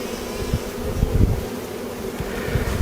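A low honeybee buzz hums steadily near the listener at an opened beehive, with small irregular swells and a few faint thumps underneath.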